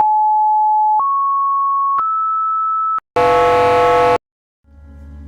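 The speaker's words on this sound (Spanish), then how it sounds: "Pudiéramos seguir sumando sonidos puros." Three steady pure tones step upward in pitch, one second each, then a dense, buzzy combined tone sounds for a second before a softer one fades in.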